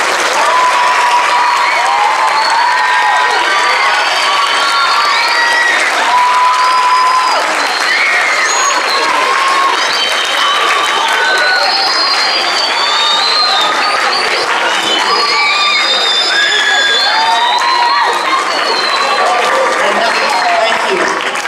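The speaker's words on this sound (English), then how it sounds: "Let's congratulate and applaud our 2000." Sustained applause and cheering from a school audience at a 2016 National Junior Honor Society certificate presentation, a dense wash of many hands clapping with scattered whoops and voices throughout, loud and continuous.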